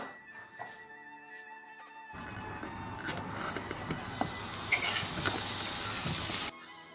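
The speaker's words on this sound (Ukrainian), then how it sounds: "на суху сковорідку ми викладаємо наші шматочки" Quiet clattering gives way to a loud, steady sizzling hiss as pieces of pork fat fry in a dry pan, swelling and then cutting off abruptly.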